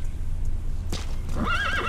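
A horse whinnies in the video game Metal Gear Solid V: The Phantom Pain, one loud, close, rising-and-falling neigh near the end over a low steady background hum.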